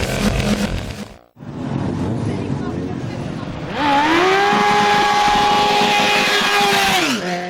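Full race KTM supermoto bike ridden on board during a National Series round, its engine roaring continuously up close, then climbing to a higher, steady tone after a brief dip.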